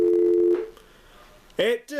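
A telephone tone plays on a small home intercom system built from car parts: a steady, loud tone held for about half a second, then a quiet stretch, followed by brief voices.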